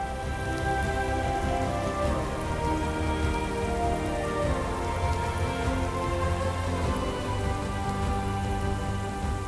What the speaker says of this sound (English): Enjoy the rain and distant sound of thunder as you navigate the world.